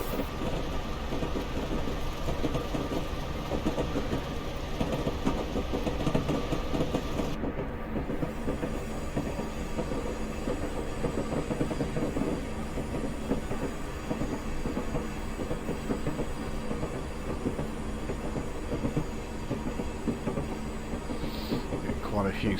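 Class 37/4 diesel locomotive in Train Simulator Classic running on the Mallaig to Fort William line, a steady rumbling engine drone with rail clatter continuing throughout at a consistent level.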